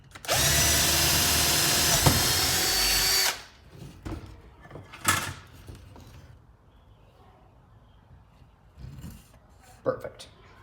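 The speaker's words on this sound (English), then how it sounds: "you're gonna drill through the entire piece of wood" A power drill whines loudly and steadily for about three seconds as it bores through wood, then stops; scattered clatter and brief talk follow.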